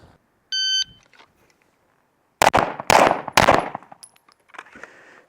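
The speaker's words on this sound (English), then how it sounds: "So 15 yards from ready, fired 3 rounds, 5 seconds" A shot timer beeps, then a Race City Defense RC9 pistol fires three sharp, loud shots in quick, even succession from 15 yards, followed by a faint rustle.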